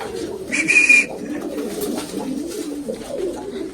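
Pigeons coo softly and continuously in a low murmur, with a brief high whistle-like tone near the start.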